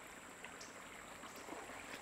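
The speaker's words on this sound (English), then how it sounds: "We're down here on the creek behind the buffalo range." Creek water flowing behind a buffalo range near a beaver dam, a soft, steady trickle heard alone and faintly, with a constant high whine in the background.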